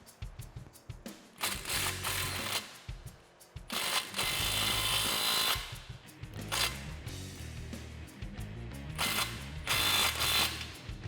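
Ratcheting wrench tightening an exhaust tip clamp on a 2015-2017 Ford Mustang GT fastback with a Roush cat-back exhaust, giving repeated bursts of close, crisp metallic clicking with short pauses between strokes.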